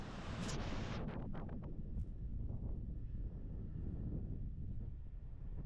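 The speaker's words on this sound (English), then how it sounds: "it's quite windy" Strong wind buffets the microphone on the coast at the northern tip of mainland Scotland, a loud, continuous low roar and rumble with no speech.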